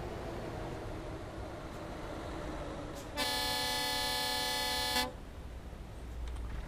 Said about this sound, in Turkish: Kornam önden duyulmuyor.